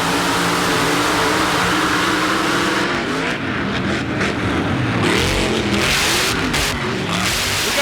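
A 1994 mud racing car with a full-size Chevrolet body launches at a green light at an Indianapolis NMRO event, its engine roaring loud and continuous, revving up and surging throughout, with no voices.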